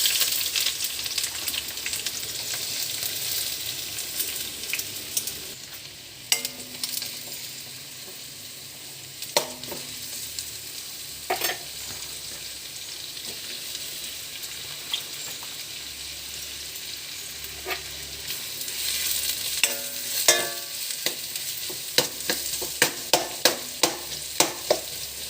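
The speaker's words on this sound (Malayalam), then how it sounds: "നെയ്യ് ഒഴിച്ചു സവാള ഇട്ട് കൊടുക്കാൻ പോവാം." Chopped onions sauté in hot ghee for chicken biryani, giving a steady close sizzle with intermittent scraping stirs and clinks of a spoon in the pan, with no voices.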